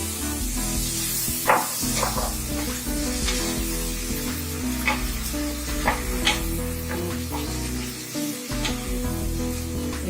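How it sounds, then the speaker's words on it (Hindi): Boiled chickpeas tipped into a hot pan of masala for spicy masala chana and stirred, giving a steady close sizzle with repeated scraping and clattering strokes of the spoon; no one speaks. "अभी मैं इसमें ये जो चना है ये मैं डाल दे रही हूँ।"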